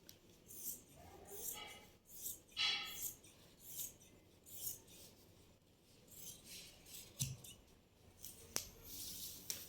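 Scissors cut fabric for Punjabi pants in a series of soft, close snips spread irregularly through a quiet room, with a faint clink near the end.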